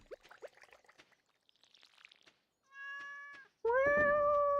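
A pet cat in the Stardew Valley video game gives a couple of short, close meows, then a soft pouring trickle and bright chiming game tones follow.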